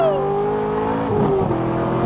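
A straight-piped Corvette tuned to about 500 horsepower roars loudly and close by, its engine note holding a continuous raspy drone that climbs in pitch as it revs and accelerates.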